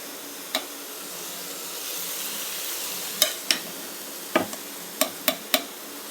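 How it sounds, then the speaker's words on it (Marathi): Cooked rice being stirred into a sugar mixture in a pot for coconut rice, with a soft steady sizzle and hiss plus several sharp spoon scrapes and clinks against the metal, close by and with no talking. "तर आता मी त्याच्यात हा भात मिक्स करून घेते."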